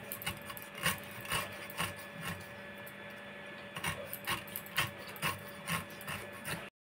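A knife slices a whole pineapple into thin rounds, taking the eyes off with the cut, in a home kitchen. It gives repeated rasping, sawing strokes in steady bursts, close and moderately loud, with no voice.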